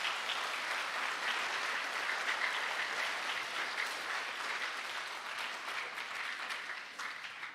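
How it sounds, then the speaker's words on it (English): Sustained audience applause at an outdoor tree planting ceremony, a steady dense wash of many hands clapping that holds for several seconds before tapering slightly at the end. "Let's applaud Natalie for everything she's done."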